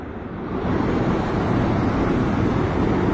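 Loud, steady roar of rushing river water in the Rheidol Valley, Wales, broadband and continuous, swelling slightly after the first half second and holding strong throughout.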